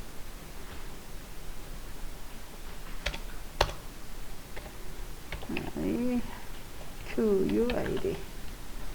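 Scattered keyboard taps at a computer while lettering in a design program, a few sharp isolated clicks over a steady hiss, with a voice speaking softly in the background.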